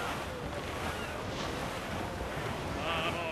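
Howling wind and rolling waves of a squall at sea, heard from a sailing ship in the video game Assassin's Creed Black Flag; a steady, dense roar of surf and gusting air, close and continuous, with no talking.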